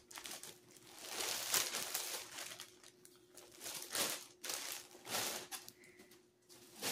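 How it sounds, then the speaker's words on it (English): Plastic packaging crinkles and crackles close by in irregular bursts, with the rustling rising and falling over several seconds. "sorry for the crinkling"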